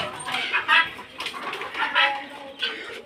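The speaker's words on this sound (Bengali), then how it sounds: "অনেক দিন ধরে আমার মুরগির ফার্ম দেখাইনি আপনাদের" Chickens at a poultry farm cluck in short, bright bursts at close range, several calls overlapping at a modest level.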